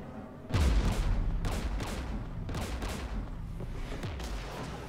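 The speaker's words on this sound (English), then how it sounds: "We're taking fire." Gunfire in Mass Effect Legendary Edition with Geth anti-aircraft guns by a jamming tower: a sustained barrage of repeated shots and booming impacts in rapid bursts, loud and close, with no speech.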